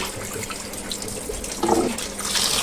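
Tap water runs steadily into a kitchen sink while raw chicken is rinsed, a close, continuous splashing hiss with brief surges as the pieces are moved under the stream.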